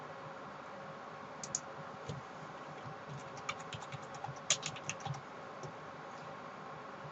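Quiet, scattered keystrokes typing a page name on a computer keyboard while naming a OneNote page. The clicks come in short bursts over a low hiss and are fairly faint and close.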